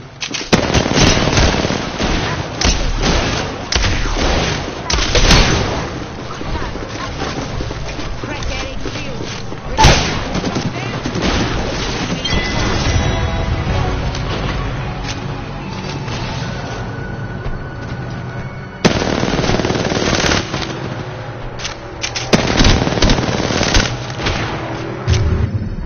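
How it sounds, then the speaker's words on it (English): Bursts of rapid automatic gunfire and heavy booms from an Apex Legends match, loud and close, with intermittent frantic speech between and over the volleys. "Shooting at me."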